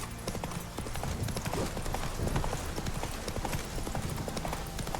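Horse hooves clip-clop in a steady walking rhythm in the video game The Witcher 3, close and continuous over a bed of ambient game sound.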